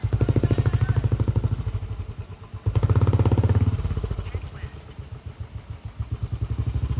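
A motorcycle engine chugs with a rapid thumping idle, revving and bumping unevenly as it rides over a rough, potholed off-road track from Jhapa to Bhedetar.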